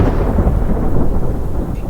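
Deep thunder rumbles steadily and loudly from a night thunderstorm, with a continuous low roll and faint rain-like hiss over it.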